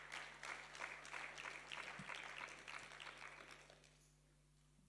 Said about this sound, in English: Can we clap for him again?